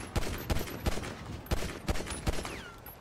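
Rapid bursts of gunfire in a GTA V NoPixel roleplay shootout near a big bank, several sharp cracking shots in an uneven rhythm, fairly close and loud, with no talking.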